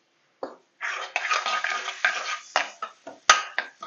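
Cumin seeds tipped into a hot pan and frying, a close crackling sizzle broken by a series of sharp scraping stirs and clinks of a spoon against the pan, no voices.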